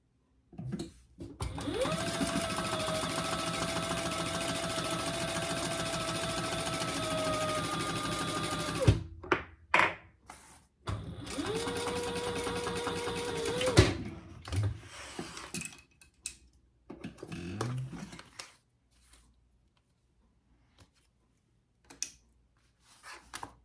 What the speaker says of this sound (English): Let's sew that.